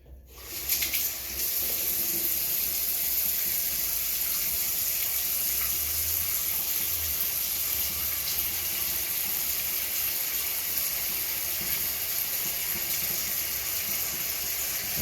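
A bathroom tap runs steadily and loudly after a head shave, a continuous broadband hiss of water streaming into the sink that starts abruptly and holds unbroken to the end, with no talking.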